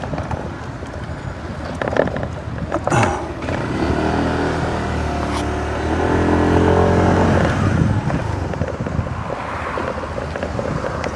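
A bus passes by outdoors, its engine swelling into a broad rumbling roar that peaks midway and fades, with wind buffeting the microphone throughout.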